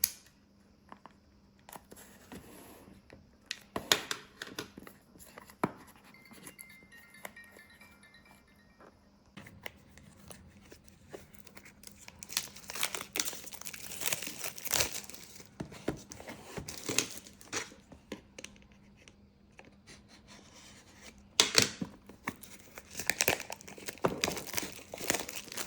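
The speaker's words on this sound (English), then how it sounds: "Now let's unbox it." Packaging for a Hobbywing AXE R3 Plus 4274 motor combo crinkles and rustles during unboxing, with close, irregular bursts of plastic crackling and tearing that grow busier toward the end, plus an occasional small clink.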